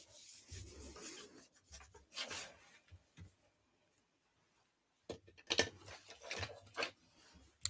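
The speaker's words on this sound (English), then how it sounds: "being careful not to burnish on top of the lights. Just want to burnish around." A craft ornament is burnished by hand, giving short bursts of dry rubbing and scraping in uneven strokes with brief pauses between them, close and fairly quiet.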